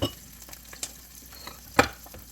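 An egg frying in a pan for a croissant sandwich gives a low, steady sizzle, broken by a few sharp clicks and scrapes from stirring or the pan. No one speaks.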